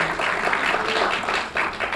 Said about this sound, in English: Yes, please, round of applause.